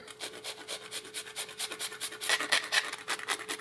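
Chocolate being shredded, a quick rhythmic scraping rasp repeating in fast strokes, close and fairly soft.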